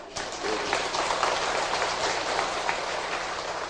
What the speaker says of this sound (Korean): 요새 이 박수는 김일성이한테 배운 것 같아